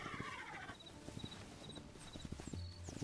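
Horse hooves clip-clop in the video game Hytale, a steady rhythmic trot of sharp knocks with occasional bird-like chirps over a soft ambient background. It is fairly quiet throughout.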